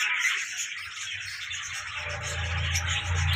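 Ring-neck parrots call from a breeding cage, bright chirps and squawks over a faint low rumble, moderately close and fairly quiet.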